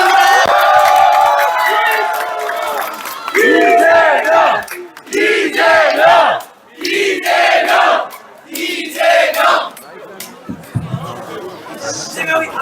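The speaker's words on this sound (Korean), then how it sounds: "박수 부탁드립니다." A crowd at a party leader's youth transportation pass policy meeting cheers, shouts and claps loudly in several bursts separated by brief pauses, with lively chatter mixed in.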